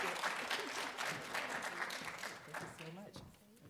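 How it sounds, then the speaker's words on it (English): An audience applauds the finalists at a venture competition finale, clapping dense at first and thinning toward the end while a voice speaks over it. "a big round of applause for them, please"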